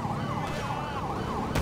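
Police car sirens in a video game, two wailing sirens sweeping up and down together in sync over steady engine rumble, loud and continuous with a brief burst near the end.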